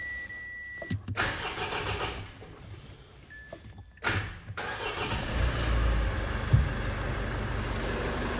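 Mitsubishi L200 Series 5 2.4 DI-D pickup engine cranking close by: a brief first attempt, a second burst of cranking, then the engine catches and settles into a steady, loud idle, with no talking.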